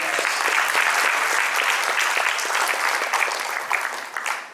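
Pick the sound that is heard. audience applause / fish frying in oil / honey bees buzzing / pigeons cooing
audience applause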